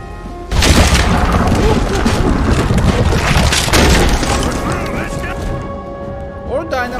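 Cannon fire in Red Dead Redemption 2 erupts as a loud, close boom, followed by sustained crashing rumble and debris as a voice talks over it.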